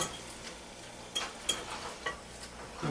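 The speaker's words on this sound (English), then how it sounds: "Take the spatula here and start to mold this" A spatula scraping and pressing meatloaf mixture into an oblong shape in a bowl, with a few soft, close scrapes and dull taps over a quiet background and no talking.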